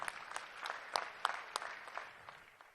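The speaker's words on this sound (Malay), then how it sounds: "Kita berikan tepukan yang gemuruh sekali lagi." Audience applause at a government symposium in Selangor before the launch of its first state development plan: sparse, distinct claps at a soft distance, a loose uneven patter that gradually thins out.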